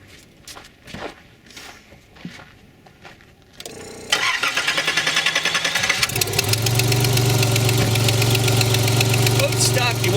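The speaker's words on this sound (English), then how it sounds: "I'll start the engine and let you hear it a couple revs." After some shuffling and footsteps, a car engine cranks and fires up, then runs with a loud, rough, throbbing idle up close.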